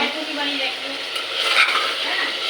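Mutton is stir-fried for kosha in a pan, a close, steady sizzle with scraping stirs that swells briefly in the middle, while someone talks quietly over it.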